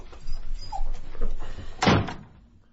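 In a radio play a dog whimpers softly in short, close whines, followed by a sharp thump like a door shutting.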